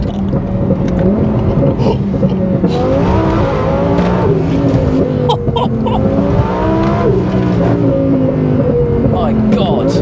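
A tuned 500 BHP Volkswagen Golf R MK7 pulls hard under load, its engine note rising steadily and loud throughout with rapid gear-change dips, while occupants talk over it.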